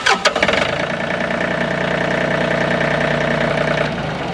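A John Deere 3025E compact tractor's diesel engine cranks, catches after a couple of sharp bursts, then settles into a steady, loud, close idle.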